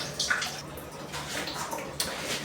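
Rice being washed by hand in water in a home kitchen, with steady sloshing and swishing close by, soft splashes and a few bright drips, no voices.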